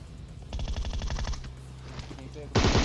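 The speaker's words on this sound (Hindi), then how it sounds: "गोली चलाए जाते हैं।" Automatic gunfire in the mobile battle royale game PUBG Mobile, a rapid rhythmic burst of shots followed by a pause and then a louder, sharper burst near the end, with no talking.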